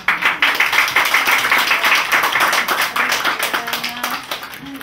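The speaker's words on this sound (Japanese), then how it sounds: "もう一度拍手を。" A concert audience at a first-anniversary show applauds steadily, with dense, fairly close clapping that holds at an even level for several seconds.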